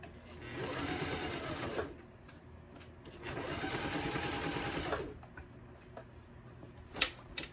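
A Janome sewing machine stitches through a bag in two steady bursts of whirring, each about two seconds long, close and clear, followed by quieter handling clicks and a sharp tap near the end.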